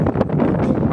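Outdoor wind blowing across a microphone at a skateboarding contest, a brief steady rumbling whoosh at close range with no talking.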